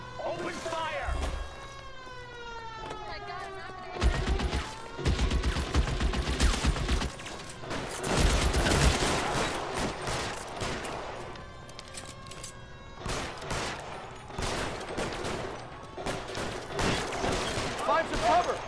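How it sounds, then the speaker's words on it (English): Shootout gunfire in the L.A. Noire video game, with bursts of shots and impacts over most of the stretch, dense in the middle and later sections, mixed with game music and voices talking. "Open fire!"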